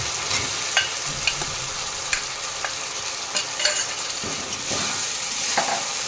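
Fried potatoes and coconut are stirred into a cooked masala for Kolkata-style ghugni, with a steady sizzle and repeated scraping, clacking strokes of a spatula against the pan.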